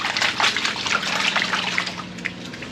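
Water sloshing and swirling in a heavy gold pan full of black sand, a close, continuous wet splashing and trickling with no talk.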